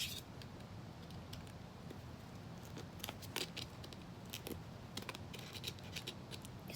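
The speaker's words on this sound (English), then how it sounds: "I'm trying to open it with scissors." Scissors prying at the casing of an iPhone 7, quiet scattered clicks and scraping snaps over faint background noise.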